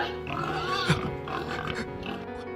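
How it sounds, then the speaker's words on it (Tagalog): A pig on a farm gives a run of close, rough grunts and snorts over a couple of seconds, with one sharper squeal-like peak partway through; no talk. "Bakit niya hinahalay yung baboy?"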